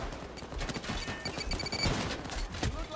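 Gunfire in PAYDAY 2 during the Heat Street heist: continuous, dense rapid shooting that fills the whole moment at steady loudness, with overlapping bursts and no pauses.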